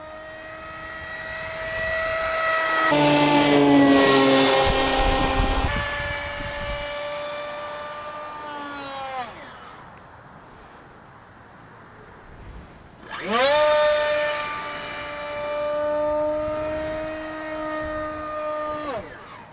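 An FT Viggen RC model airplane with a rear-mounted propeller flies past, its high whining motor buzz rising loud and close, then fading to faint distance before swelling back again.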